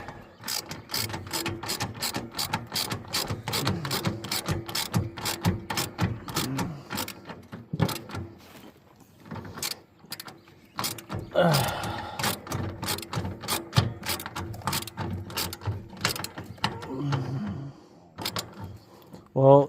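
Rapid ratchet clicking while tightening a belt pulley on a Husqvarna riding mower, steady close clicks in bursts with pauses, someone talking intermittently over it.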